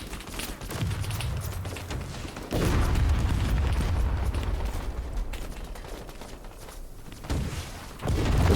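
Heavy booms from a Striker NGS big gun in a video game fort assault, deep bursts of explosive rumble arriving in a few loud waves with mechanical clatter between them, no talk.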